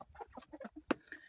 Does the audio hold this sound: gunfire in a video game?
no